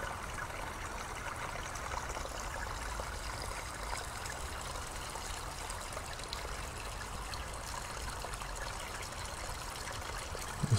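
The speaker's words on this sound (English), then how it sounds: "There's something so relaxing about listening to water running like this." A stream of water runs steadily over rocks in an autumn glen among trees, a continuous near trickling and burbling wash with a louder torrent rushing in the background, alone without voices throughout.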